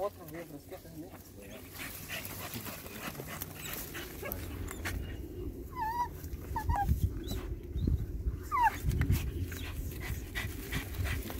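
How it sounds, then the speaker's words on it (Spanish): A hunting dog on an armadillo hunt pants, whimpers and gives short yips and barks, some close and some farther off, while people talk in the background. "Ese perro"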